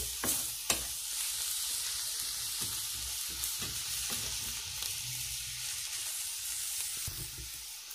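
Spinach and chicken balls fry in a pan with a steady, close sizzle and crackle, broken by occasional sharp pops and utensil clicks.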